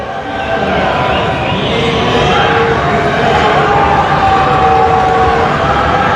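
A home crowd at a Cochise College women's basketball game cheers and jeers during an opponent's free throw, a loud, continuous roar of many voices filling the gym throughout.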